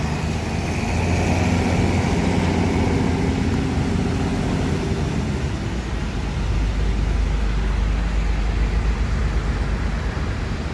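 A vehicle engine runs steadily with a full, deep exhaust rumble, loud and close throughout, holding a constant low drone with no voices.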